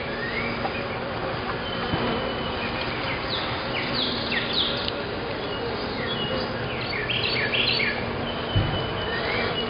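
Honeybees hum steadily at an opened hive during a spring inspection of a brood-heavy frame, a dense continuous drone with birds chirping in the background.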